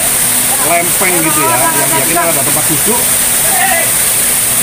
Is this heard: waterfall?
yes